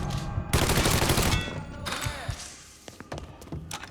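Gunfire in the video game Mafia III: a loud close burst of rapid shots and heavy thuds for about a second and a half, then scattered sharper single cracks and impacts, with shouted voices over the fight.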